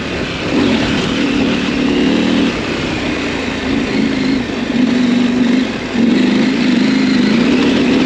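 An adventure motorcycle rides a rocky back road at the Touratech Rally 2023 in Washington. Its engine drones loudly and steadily, close up, with slight dips and surges in the tone and no voices.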